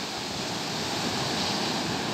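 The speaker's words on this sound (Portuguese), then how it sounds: "O mar hoje aqui em Garopaba, aqui na praia, está muito calmo, muito tranquilo." Calm sea waves wash onto the beach at Garopaba as a steady, broad, close surf roar with no break.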